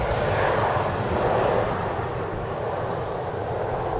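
An airplane touching down at Amsterdam Schiphol Airport in strong storm winds, a steady broad roar of engine and rushing wind heard from a distance, loud and unbroken, easing slightly after the first half, with no voices.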